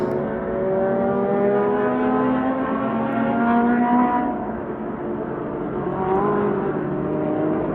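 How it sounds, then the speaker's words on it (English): Race cars at a speedway near a Connecticut hiking trail, heard as a steady, distant engine drone with layered rising and falling tones as cars lap, continuous throughout with no voices. "there's a speedway nearby. It's totally ruining the ambiance."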